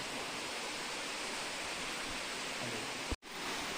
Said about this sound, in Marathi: बघा कसा पाण्याचा धबधबा पडतो.